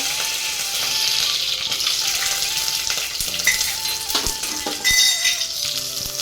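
Curry leaves sizzling in hot oil in a pressure cooker for tomato rice with cinnamon and cloves, steady crackling fry with spattering pops and a few metallic stirring clinks, no talk.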